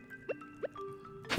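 Watering crops with a watering can in the Stardew Valley video game gives a few quick, soft, close droplet plinks at a steady pace, with a short louder burst at the end.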